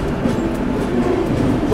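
A train hauled by a WDG 3A diesel locomotive from the Kalyan loco shed, a loud, close, steady rumble of engine and rolling wagons filling a short stretch of travel.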